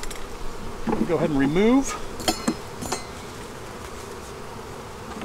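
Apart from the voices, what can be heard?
honey bees buzzing at an open beehive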